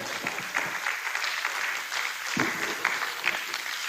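Brief burst of clapping from a conference audience after a lecture, dense and steady, moderately distant, with a few sharper individual claps standing out.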